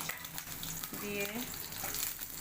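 Bay leaf and chopped onion frying in oil in a wok, a steady close sizzle with brief stirring scrapes partway through.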